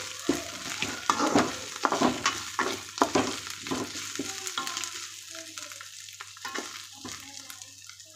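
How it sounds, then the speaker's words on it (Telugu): Ingredients frying and being stirred in a pan, a steady sizzle broken by repeated scraping stirs, close and fairly loud at first and thinning out toward the end. "ఇది కొద్దిగా పచ్చి వాసన పోయేదాకా ఫ్రై చేయాలి."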